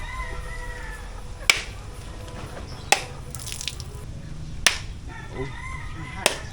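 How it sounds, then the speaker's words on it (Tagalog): Sharp chopping strikes split a coconut roughly every one and a half seconds, four clear hits over steady outdoor background noise with a rooster crowing faintly. "binabak na ni Buda yung niyog"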